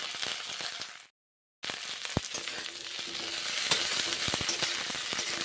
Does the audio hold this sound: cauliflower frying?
yes